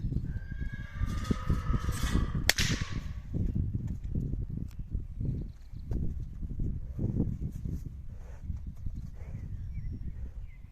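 A large Percheron mare whinnies loudly near the start, followed by heavy, shuffling hoofsteps and rustling movement close by, with scattered low background noise.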